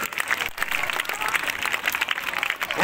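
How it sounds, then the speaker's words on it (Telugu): Audience at a school prize-giving claps for the winners, a dense, continuous wash of applause lasting a few seconds. "చప్పట్లు కొడతారు మీరు."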